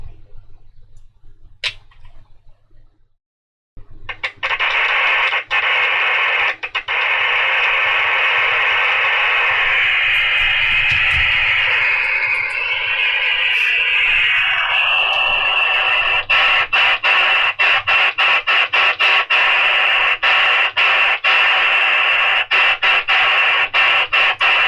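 Quansheng UV-K5 handheld radio with an attached speaker, set around 26 MHz, hissing with steady loud static and crackle for most of the stretch, broken by sharp clicks and squelch bursts, with no voices.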